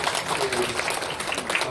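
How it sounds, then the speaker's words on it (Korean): An audience claps after a presentation at a national library conference. Dense, steady applause fills the whole short stretch at an even, fairly loud level. "박수 부탁드리겠습니다"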